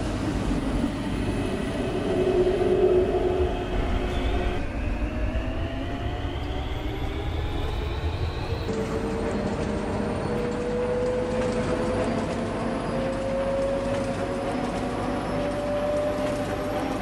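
A Roblox video game airport transit train leaves the station with a rising, stepped electric motor whine over a rolling rail rumble, steady and close, gaining pitch as it accelerates.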